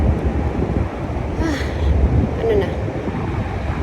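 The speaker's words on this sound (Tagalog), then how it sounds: "Mahangin na." Wind blows steadily at a bus stop in Madinat Zayed, Abu Dhabi, as a low buffeting rumble across the microphone that swells and eases, with a brief spoken question over it.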